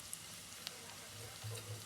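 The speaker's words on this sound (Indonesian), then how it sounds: "Minyak geus panas, gorengkeun oncomna." Oncom, a fermented soybean cake, frying in hot oil in a pan: a steady, soft crackling sizzle with scattered pops and a few brief louder spits, no talking.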